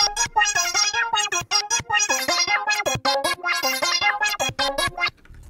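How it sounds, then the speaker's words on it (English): A heavily effected synth lead using the Artifact preset, processed through ShaperBox, plays a choppy, stuttering melody with bright stepped notes in rapid gated bursts for several seconds, alone without talk. "Last sound for the melody is this lead"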